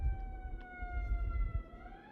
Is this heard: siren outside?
yes